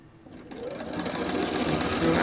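A sewing machine stitches fabric pieces together, its motor whirring up and getting steadily louder and faster at close range.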